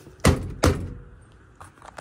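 The door of a first-generation Cummins truck, just fitted with a metal door handle plate, shutting with two heavy, close thuds in quick succession, followed by faint rattling.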